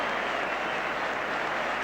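A football crowd at Old Trafford roars in response after a goal, a dense, steady wall of cheering and noise from thousands of fans with no break.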